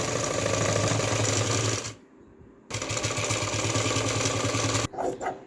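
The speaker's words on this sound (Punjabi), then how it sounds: "ਇਹ ਅਸੀਂ ਹੁਣ ਫਾਈਨਲ ਸਲਾਈ ਲਗਾਵਾਂਗੇ" A sewing machine stitches a V neck on cotton fabric in two rapid, close bursts separated by a short pause, followed by a few faint handling sounds.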